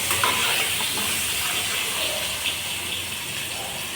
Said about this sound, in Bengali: এবার কড়াতে আলু দিলাম, আলুটাকে হালকা ভেজে নেব